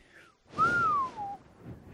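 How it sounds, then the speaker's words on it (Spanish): A single clear whistle that glides up slightly and then slides downward, lasting under a second, close and fairly loud with faint background noise. "emitió un silbido"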